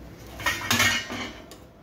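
A metal lid clanks down onto a pot of cooking rice with a few light clinks, close by in a quiet kitchen.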